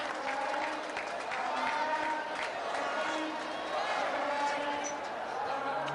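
A cricket stadium crowd at an India vs England one-day international cheers and claps in a broad, steady roar, with faint whistles and scattered shouts rising within it.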